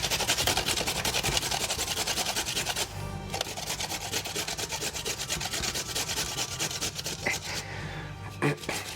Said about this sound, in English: Trying not to grate my knuckles off.